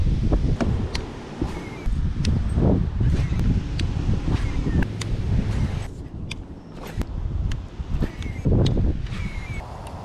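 Strong wind buffets the microphone beside a shallow, weedy pond, a steady rushing roar with gusty surges and rustling, loud and continuous throughout.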